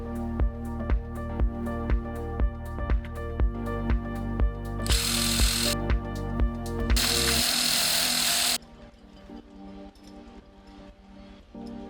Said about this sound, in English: CNC cuts aluminum as precise as a CAD drawing.